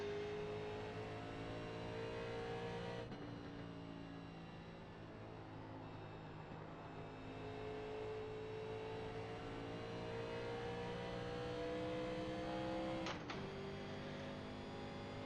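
A race car engine drones steadily in the iRacing sim as the car pulls out of the pits at Indianapolis, a sustained buzzing tone with two short gear-shift dips, heard alone without talk.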